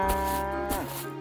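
A single long, close cow moo, steady and low-pitched, that bends downward near the end before trailing off.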